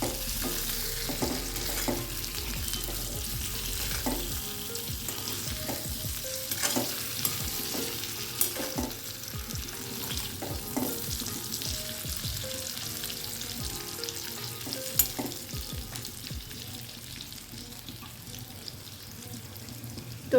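Stuffed bitter gourds, Kathiyawadi style, frying in a pan, with a low steady sizzle under regular scraping and tapping stirs that carry on throughout.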